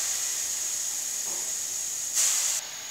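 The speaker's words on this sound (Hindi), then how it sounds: "अब हम इसमें डालेंगे घिसा हुआ कद्दू" Grated bottle gourd is dropped into a hot kadhai, giving a steady hiss of sizzling that swells briefly into a louder burst near the end before settling back, with no talking.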